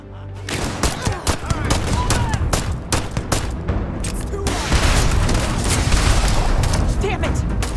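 Rapid gunfire from a firefight in the video game Starfield: dense, overlapping bursts of shots and booms crack out continuously, loud and close, with no pause.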